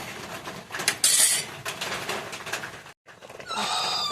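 A metal spoon scrapes and clinks against a pot of mantha fish curry in quick irregular strokes, with a bubbling, sizzling wash underneath; a brief gap interrupts the stirring.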